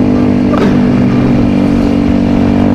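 A Kawasaki Ninja 250 Mono single-cylinder motorcycle runs close and loud with a steady, buzzing drone throughout and a slight brief rise in revs near the start, with no voices.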